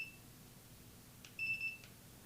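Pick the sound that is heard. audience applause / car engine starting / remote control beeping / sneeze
remote control beeping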